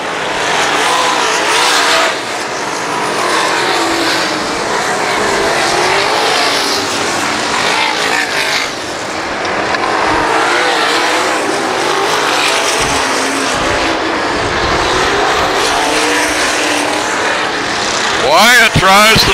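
Race cars roar around the Valley Speedway track in a late-season race, engines loud and continuous as the pack passes close, with a commentator talking excitedly over the noise throughout.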